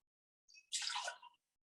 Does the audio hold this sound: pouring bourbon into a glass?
yes